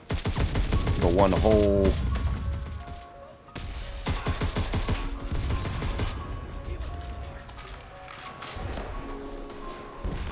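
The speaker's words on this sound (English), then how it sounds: "Dropping artillery on and around the barn, mostly on it would seem." Artillery shells burst on and around a barn in a co-op war video game, heavy booms and rapid gunfire-like rattles stacking up loud and close, with a voice talking over the barrage.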